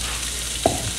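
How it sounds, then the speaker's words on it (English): Peppers and onion go into a pan to sauté, giving a brief soft sizzle with one quick knock or scrape partway through, close and short with no talking. "So now I'm going to add the peppers and the onion. Going to give them a little saute."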